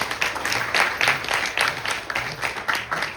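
A crowd at a Navratri night gathering applauds the organisation's treasurer, close and fairly loud clapping in uneven pulses from a modest group of hands.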